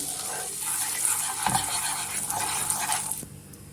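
A utensil stirs mint and black pepper in a hot pan, giving a soft sizzle with light scrapes and taps of metal against the pan, then a quieter tail, with no talking.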